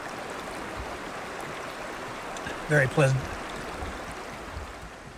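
A river flows steadily beside a campsite in Namadgi National Park, a constant soft rushing that fills the background while someone speaks a few words briefly over it.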